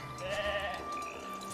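A sheep in the video game Foundation gives a short, faint bleat, a single wavering call against quiet background ambience.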